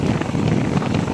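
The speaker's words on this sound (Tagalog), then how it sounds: "So malakas ang hangin." Strong wind buffeting a phone microphone on a riverside road trip, a continuous low roaring rumble that fills the brief moment.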